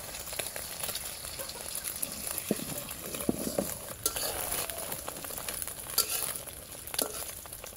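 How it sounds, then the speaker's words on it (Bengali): An egg frying in oil in a pan as part of a banana curry, a soft, continuous sizzle with scattered small pops and crackles, fairly quiet throughout. "ডিমটাকে আমরা ভেজে নিব"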